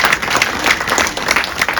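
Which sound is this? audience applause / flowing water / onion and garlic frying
audience applause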